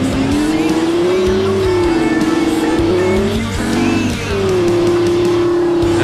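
A Lamborghini Huracan with an aftermarket exhaust accelerates loudly and close by, its engine holding a strong steady drone that dips briefly and then surges back, dominating throughout.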